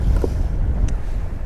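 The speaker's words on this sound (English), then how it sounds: "Now it's really windy." Steady roaring wind buffets the microphone over open sea during fishing, with a dull low rumble and no voices.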